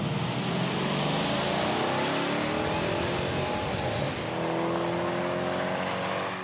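Chrysler SRT 300 launching at a drag racing night at Kwinana Motorplex, its engine roaring loudly and rising in pitch as it accelerates away, with no talk.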